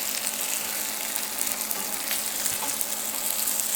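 Quesadilla burger toasting in hot frying oil, a steady close sizzle with fine crackling spits running evenly throughout, no voices.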